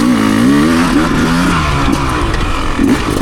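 A new motorcycle accelerates hard off the line for a practice start at the Hilts Rd riding spot, its engine loud and close with a rising rev held throughout.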